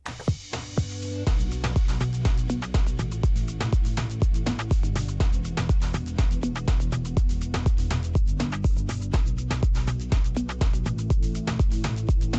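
A dance track plays back from DJ software, punchy kick drums thumping in a steady rhythm under bright percussion and a full synth mix, loud and continuous throughout.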